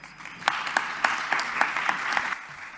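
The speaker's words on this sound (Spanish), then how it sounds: "Que sea bien caluroso el aplauso para el doctor Vicente Barros." Audience applause after a speech at a conference, a moderate wash of clapping with distinct sharper claps standing out at regular intervals, fading a little near the end.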